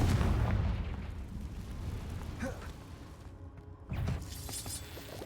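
Blasting spell explosions in the Hogwarts Legacy video game, a loud low boom opening the clip and decaying, then another burst near the end amid ongoing combat rumble.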